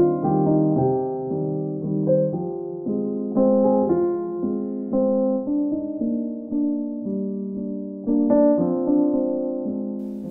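Solo piano plays a gentle waltz in 3/4, soft sustained chords and a lilting melody in the mid and low register, steady and unaccompanied.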